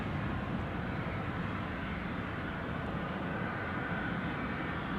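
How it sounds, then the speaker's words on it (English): DC-3 propeller airliner taxiing on the ground at Anchorage, a steady, dense engine rumble and roar held at an even loudness throughout, fairly distant and unbroken, with no talk over it. "So we've got a DC-3 down here somewhere, folks. It's taxiing apparently."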